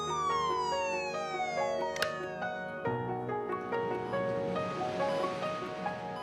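An ambulance siren wails loudly and steadily with no voices, its tone gliding downward and then holding over a dense, rumbling background.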